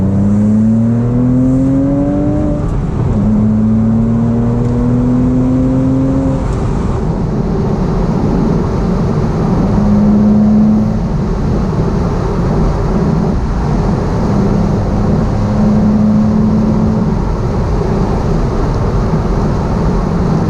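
A Porsche 987 Boxster S engine drones steadily from inside the cabin on Cotswolds country roads, its pitch rising as it accelerates through the gears, loud and constant with a steady road roar beneath.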